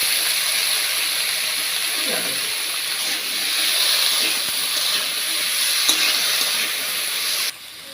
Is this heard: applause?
no